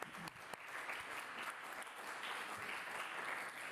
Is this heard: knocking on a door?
no